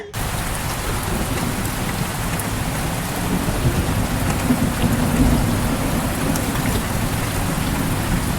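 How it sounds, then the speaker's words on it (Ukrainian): Heavy rain pours down steadily and densely, with a low rumble of thunder rolling underneath partway through. "Злива!"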